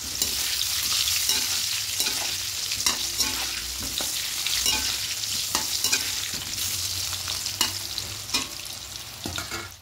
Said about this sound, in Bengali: দিয়ে আলুগুলো একটু লাল লাল করে ভেজে নেব